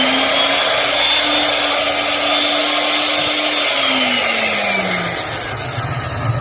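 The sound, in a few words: electric grinder grinding salad spices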